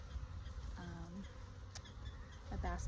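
Honey bees from a package with a queen inside, a low steady buzzing hum that runs throughout, with a few brief higher tonal chirps over it and no one talking.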